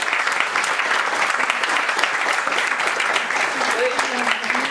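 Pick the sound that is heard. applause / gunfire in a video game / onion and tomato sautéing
applause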